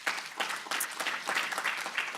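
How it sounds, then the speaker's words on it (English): Audience applause at a speaking event on play equity and social justice: steady, dense clapping from a crowd, continuous and moderately loud throughout. "so we can give Deborah Duncan a round of applause"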